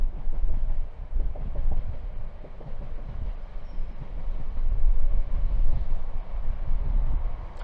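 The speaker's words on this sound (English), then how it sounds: "That's definitely a train." A train rolls past nearby, a loud steady rumble with rhythmic wheel clatter running for several seconds without talk.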